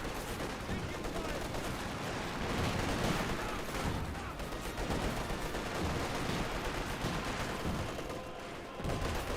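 Sustained gunfire in a Company of Heroes 2 battle, with rifle and machine-gun bursts rattling steadily throughout amid dense battlefield noise, loud and continuous with no pauses.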